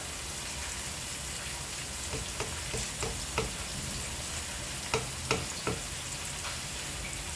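Chili powder, coriander, cumin, turmeric, green chilies, ginger and garlic fry in a pan with a constant crackling sizzle, punctuated by a series of sharp taps and scrapes from stirring at close range.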